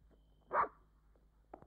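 A dog gives one clear, fairly close bark, with a faint softer sound near the end in a quiet room.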